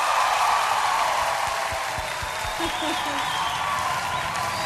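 Steady, dense applause from an audience welcoming a performer on stage, a continuous even wash of clapping that holds at the same level throughout with no break.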